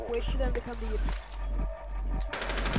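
Gunfire in the PC video game Rainbow Six Siege, several rapid shots mixed under excited talk from players, with another burst near the end.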